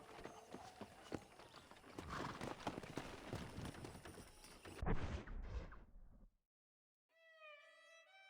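Wild horses in the Red Dead Redemption video game, heard as steady hoofbeats clip-clopping near and busy for several seconds with a whinny among them. After a brief silence comes a faint harmonic call.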